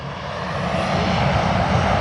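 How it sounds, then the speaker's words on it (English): Air Canada AC-34 departing Sydney Airport, a broad continuous jet engine roar that builds slightly over two seconds, steady and fairly loud without talk. "we will film Air Canada AC-34 as it departs Sydney"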